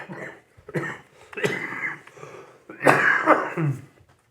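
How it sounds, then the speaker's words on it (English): A few sharp bursty exhalations, ending in a loud forceful sneeze-like burst, close to the mic with no talking. "I've been sneezing a lot"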